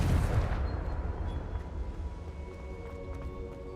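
A Confringo blasting spell from Hogwarts Legacy bursts with a loud booming explosion at the start, then rumbles and fades into a lingering low roar.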